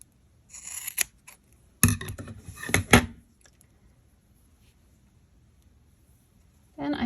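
Scissors trimming crochet yarn tails: several crisp, close snips in quick clusters, then a long quiet stretch before a voice starts speaking at the end.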